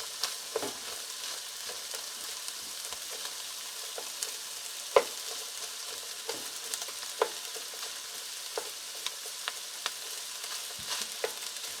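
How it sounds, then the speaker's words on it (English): Chopped onion sautés in a pan alongside meat for smoked stuffed peppers, a soft continuous sizzle broken by scattered crackles and small pops, with no voices. "I'm going to throw the onion right in the middle, and just let that saute a little bit before I mix it around with the meat"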